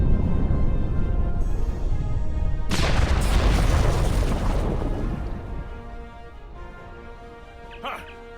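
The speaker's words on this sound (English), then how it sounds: "The bombs are primed to blow." Bombs detonate in a Star Trek Online ground mission: a sudden loud, broad blast erupts, then a rumbling roar that slowly dies away, with a faint late pop near the end.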